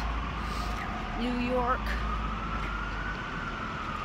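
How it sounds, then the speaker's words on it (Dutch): Emergency vehicle sirens wail on a New York street, a faint rising and falling tone over steady traffic rumble, partly masked by a nearby voice speaking. "Klassieke sirenes."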